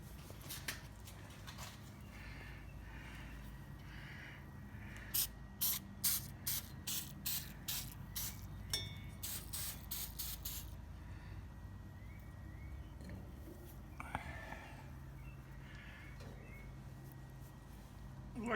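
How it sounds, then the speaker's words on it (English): Citral, a citrus-based spray-on cleaner, is pumped from a trigger bottle onto a 1973 Mach 1 exhaust tailpipe: a run of about a dozen sharp, hissing squirts in quick rhythm, close and clear over faint background noise. "we're moving to Citral, a spray-on citrus-based cleaner"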